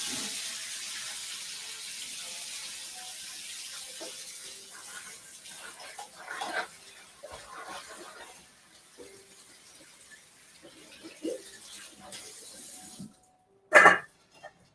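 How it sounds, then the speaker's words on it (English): Tap water runs steadily into a sink to rinse sprouted chickpeas, with a continuous close splashing that shifts as the water hits the chickpeas, then stops before a short final gush. "I'll just rinse them one more time right now."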